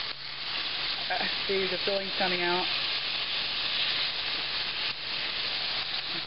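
Meatless wontons fry in a pan with a steady, loud hissing sizzle that runs throughout, while a person talks briefly over it early on.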